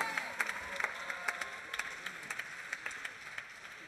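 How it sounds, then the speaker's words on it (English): Students and teachers at a jazz workshop in Thailand applaud themselves, a fairly thin, uneven clapping with distinct individual claps standing out against a soft crowd murmur. "Give yourselves a round of applause"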